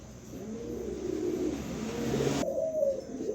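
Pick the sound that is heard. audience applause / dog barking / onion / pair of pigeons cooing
pair of pigeons cooing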